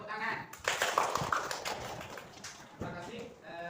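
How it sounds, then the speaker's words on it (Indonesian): Applause from a class during a teacher's practicum lesson at an Islamic junior high school, a burst of many hands clapping that swells, holds for a couple of seconds and fades, with some talking around it. "Berikan tepuk tangan."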